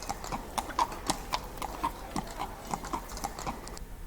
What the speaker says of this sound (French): La vie citadine suppose encore le transport par voie de voitures conduites à chevaux, marquant les pavés des rues de Bruxelles.